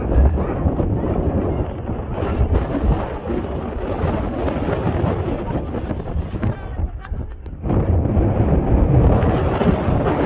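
Strong wind gusting across the open upper deck of the Jeremiah O'Brien, a WWII cargo ship in San Francisco, roars steadily and loudly against the microphone for the whole stretch, with a brief lull before it surges again.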